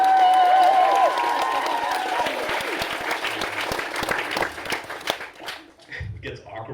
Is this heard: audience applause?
yes